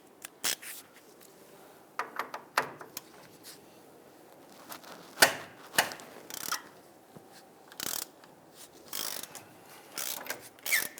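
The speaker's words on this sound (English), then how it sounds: "Using a 22mm socket, let's go ahead and loosen this nut here." Ratchet with a 22mm socket loosening a nut on the front lower control arm of a 2000-2006 Toyota Tundra, heard as close, irregular clicking bursts and metallic ticks separated by short quiet gaps, with no talk.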